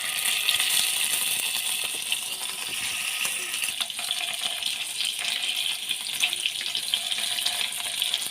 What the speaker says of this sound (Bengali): বাকির পনিরগুলো এরকম করে ভেজে নেব